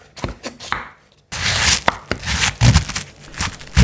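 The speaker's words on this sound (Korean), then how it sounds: "당근 하나를 채를 썰어줍니다." Knife julienning a single carrot on a cutting board, a run of close, crisp chops following a brief gap.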